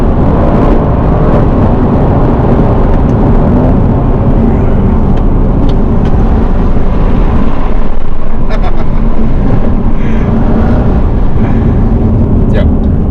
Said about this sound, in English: So just now I was burying my throttle for like a good 5-6 seconds.